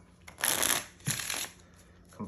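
A deck of playing cards is shuffled twice during a beginner card-through-napkin magic trick, with two crisp riffling bursts separated by a short pause, close and fairly loud.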